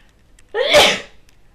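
A single loud, close sneeze, a sharp burst with a breathy tail, standing out against near silence.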